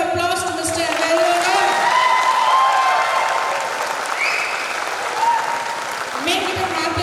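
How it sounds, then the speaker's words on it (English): A university seminar audience breaks into loud, sustained applause with a few whoops and cheers. Tonal sounds and brief voices run through the clapping, which eases slightly toward the end before swelling again. "give a big round of applause to Mr. AVELO."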